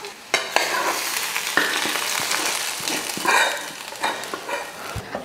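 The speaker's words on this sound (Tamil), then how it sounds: "கீரையில் தாளித்து ஊற்றியாச்சு" Onion and green chili tempering poured hot onto cooked spinach, crackling and sizzling loudly and steadily with sharp spoon clinks and stirring knocks scattered throughout.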